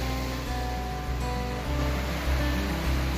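Flowing stream water near Red Fork Falls in the woods, a steady broadband rush of running water, close and continuous, gradually growing a little louder.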